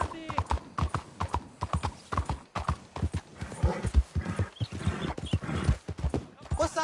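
Horse hooves clip-clop in Red Dead Redemption 2, a steady trotting rhythm of sharp knocks that runs throughout, with a whinny partway and a voice talking over it.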